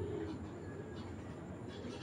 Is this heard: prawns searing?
no